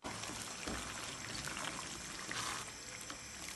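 Raw prawns tipped into a hot, simmering prawn masala gravy in a kadai, giving a steady close wet pour and sizzle that runs continuously for a few seconds.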